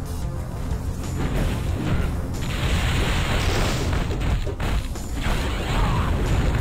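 Missiles and small mines blowing up in the X-Men Legends video game, a dense continuous roar of booms and crashing blasts with mechanical clatter layered throughout.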